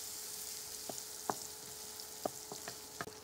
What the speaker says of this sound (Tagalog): Uunahin ko muna dito igisa yung ating garlic.